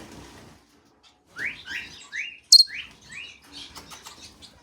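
A pet bird loose out of its cage chirps in a series of short rising tweets and whistles, close and clear in a quiet room, with one sharper high note in the middle.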